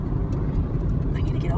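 Car speeding up in road traffic while driving, a steady low engine and road rumble with a slight rise, heard from inside the vehicle over about a second and a half.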